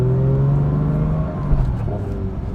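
A Porsche 992.2 GT3 engine pulls away from a stop, a close, steady harmonic drone that shifts slightly in pitch as the clutch engages, with no talking.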